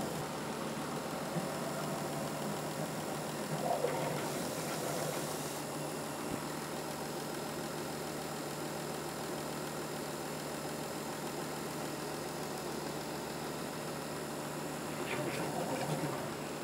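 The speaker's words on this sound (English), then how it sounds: "Now we're just working off the spray pump, and that's circulating this through." Farm sprayer pump running steadily as it circulates liquid through the lines, a continuous mechanical drone with a few faint knocks and no talk over it.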